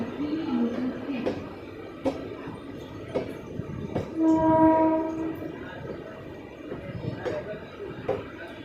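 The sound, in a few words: Titwala local train departing Kalyan junction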